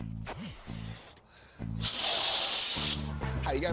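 Helium gas hisses steadily into a balloon for more than a second, loud and close, between stretches of people talking.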